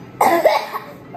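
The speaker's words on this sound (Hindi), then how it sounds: "ऐसा कौन खांसी करता है" A single short cough from a person, a quick burst with a smaller follow-up, close and clear, then quiet.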